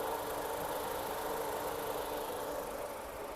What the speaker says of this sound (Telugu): ఇంజన్ చాలా అంటే చాలా స్మూత్ ఉంది.